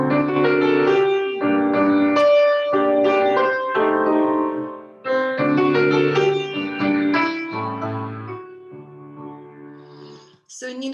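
Solo piano plays a lyrical, expressive phrase from a Chopin ballade with rich chords and a flowing melody, rising and easing in loudness, close and clear.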